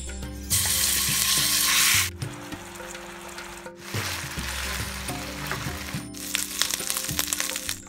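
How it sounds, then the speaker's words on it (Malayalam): Chicken pieces fry in a little oil in a pan, a loud steady sizzle with bursts of crackling and stirring scrapes, no voices. "പാനിൽ ഒരല്പം ഓയിൽ ഒഴിച്ച് ചിക്കൻ ഇട്ട് കൊടുക്കാം."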